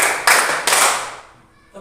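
Participants in a teacher training session clap in time, with a few sharp group claps in quick succession fading into a short decay.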